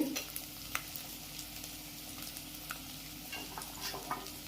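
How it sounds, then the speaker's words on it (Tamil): Garlic and small shallots soften in hot oil for a brinjal curry, giving a steady, faint sizzle with occasional light stirring clicks and pops. "பூண்டு கொஞ்சம் நல்லா சாஃப்டாக வதங்கட்டும்."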